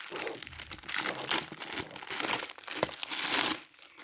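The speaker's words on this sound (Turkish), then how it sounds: "şu paketi çıkarmak gerekecek" Plastic packaging around newly bought headphones being pulled off, close and fairly loud crinkling and crumpling in bursts with occasional tearing, no voices.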